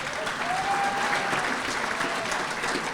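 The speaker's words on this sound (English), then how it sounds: "Dave Greenleaf, round of applause for him." Audience applause fills a hall at a sports hall of fame ceremony, steady, dense clapping sustained at even volume.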